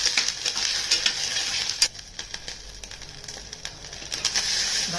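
Pigeon peas dry-roasting in a pan for a village-style curry, with a steady hiss, frequent scraping and clicking stirs, and a brief lull midway before the roasting picks up again.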